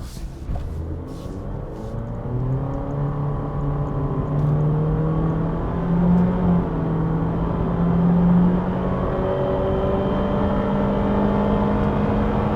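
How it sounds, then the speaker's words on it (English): A 2023 Honda HR-V small crossover accelerates at full throttle, its engine drone rising steadily and continuously in pitch, heard from inside the cabin with no talking. "I'm gonna get on the gas."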